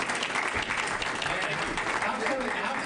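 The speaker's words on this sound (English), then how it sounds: "How come you applaud him and you didn't applaud any of us?" An audience at a county commission meeting breaks into sustained applause, a dense continuous patter of clapping from a room full of people, with a voice speaking over it.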